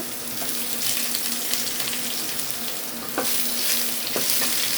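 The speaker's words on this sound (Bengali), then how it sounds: "আলু একটু নাড়াচাড়া দিয়ে সজনে পাতাটা দিয়ে" Potatoes are stirred in a pan as moringa leaves go in, with a steady frying sizzle and occasional scraping strokes and clinks close by.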